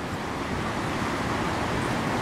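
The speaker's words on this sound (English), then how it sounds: "Oh, Look at that waterfall." Flood water roars over a waterfall in Muskoka as a dense, continuous broadband rush, loud and steady throughout with no voices.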